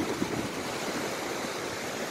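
Ocean surf at Wells Beach, Maine, gives a soft, continuous hiss of breaking waves, faint and distant, with a little wind noise and no voices.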